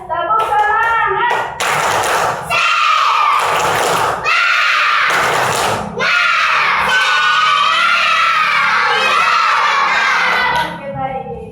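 A second-grade class at an Indonesian primary school performs the tepuk semangat clap chant, sharp unison claps punctuating loud children's shouted chanting, close and energetic, in bursts of several seconds.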